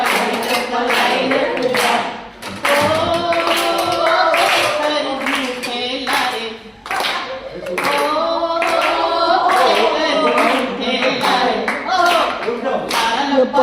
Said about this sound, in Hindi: बहुत तालियां।